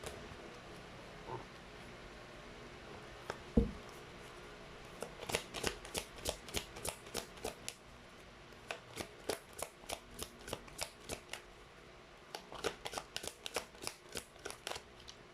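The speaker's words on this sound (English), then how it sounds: "let's try to pull up more cards" A deck of tarot cards being shuffled, with a sharp knock early on, then repeated runs of crisp riffling flicks in quick rhythmic bursts with brief pauses between, close and quiet.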